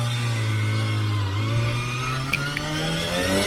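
A motorcycle engine built for an 18,000 RPM rev limit drones steadily and loud at a high pitch, its tone slowly rising as the revs climb, with a couple of brief clicks near the end.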